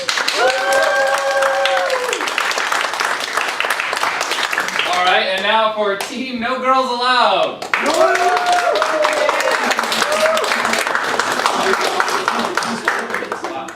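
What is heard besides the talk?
audience applause voting for improv teams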